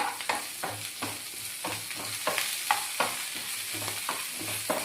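Curry leaves and mustard seeds sizzle and crackle in hot oil for a tempering, with steady frying hiss broken by repeated stirring scrapes at a regular rhythm, close and clear without any talk.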